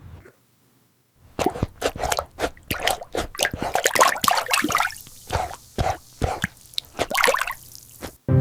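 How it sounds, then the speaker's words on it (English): A thirsty rescued puppy laps water quickly, giving a rapid series of close, wet drips and plops that run steadily for several seconds after a brief quiet start. "He drinks water so fast."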